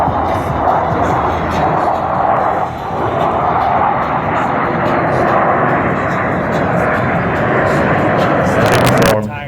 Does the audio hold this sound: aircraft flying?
yes